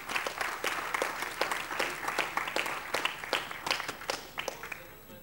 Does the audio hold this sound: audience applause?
yes